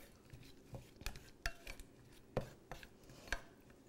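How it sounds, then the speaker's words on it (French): A spoon stirring 70% chocolate melting with coconut oil in a pot, close scraping and soft knocks against the metal recurring at an unhurried, uneven pace. "je vais le mélanger doucement"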